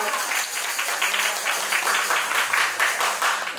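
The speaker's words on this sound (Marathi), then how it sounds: "होऊन जाऊ नक्की टाळ्यांचा कडकडाट" An audience gives steady applause, a dense continuous patter of many hands clapping at moderate distance, with no pauses.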